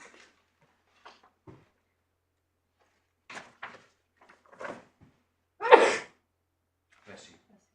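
A single loud sneeze stands out near the end in a quiet courtroom, surrounded by faint scattered rustles, paper handling and small knocks.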